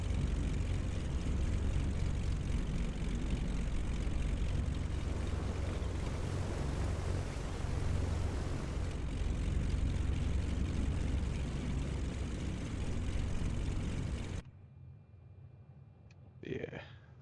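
Simulated propeller aircraft engines taxiing in Microsoft Flight Simulator: a loud, steady droning hum that cuts off abruptly, followed by a voice speaking in quiet surroundings.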